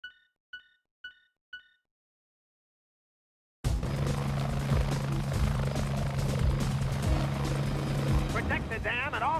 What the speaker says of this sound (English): I'm sending you in the chopper.